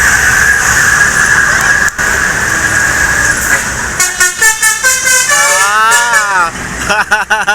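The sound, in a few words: convoy of buses arriving and honking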